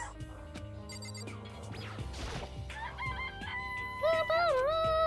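Chickens in the Danganronpa video game cluck and crow over game music, a clattering crash midway and a rising crow-like call near the end.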